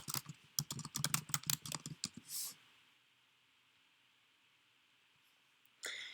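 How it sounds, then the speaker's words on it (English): Rapid bursts of typing on a computer keyboard, sharp clicky keystrokes for about two seconds, then a brief hiss, near silence and one more short burst at the end. "here I would type in the name of my country"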